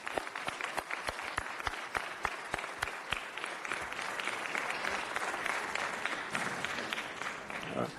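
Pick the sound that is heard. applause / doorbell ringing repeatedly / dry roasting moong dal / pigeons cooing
applause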